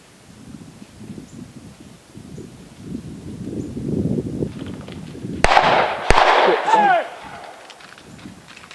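Two sharp gunshots crack close together during a deer hunt, over rustling and murmured voices in the woods.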